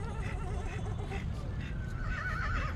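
A young Marwari colt at the Pushkar fair neighs and whinnies repeatedly at close range, its calls overlapping with people talking and the busy background of the fairground.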